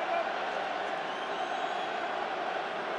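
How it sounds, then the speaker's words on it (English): A rugby crowd at the 2023 final between Leinster and Stade Rochelais boos a referee's decision in a steady, dense roar that fills the stadium without letup. "Yeah, you can hear the boo starting to ring around now."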